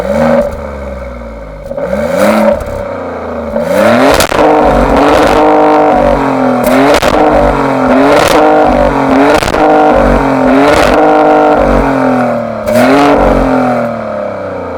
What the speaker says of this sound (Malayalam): ഇനി നമുക്ക് ഗ്രസാലെ ട്രോഫിയുടെ എക്സോസ്റ്റ് നോട്ട് കേട്ടാലോ.